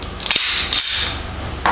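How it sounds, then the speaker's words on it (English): A 9mm Ruger pistol is safety checked, its steel slide racked and released in a few sharp metallic clacks, close and loud. "This 9mm Ruger, we'll safety check that one."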